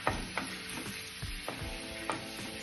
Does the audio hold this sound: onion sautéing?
yes